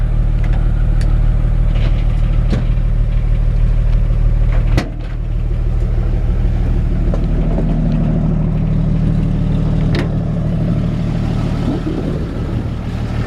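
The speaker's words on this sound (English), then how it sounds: "Great running engine, new carburetor, rebuild, Rochester." Close, steady low rumble of a 1954 Chevrolet 3100 pickup engine idling, with a rebuilt Rochester carburetor, a few sharp clicks and one brief dip partway through.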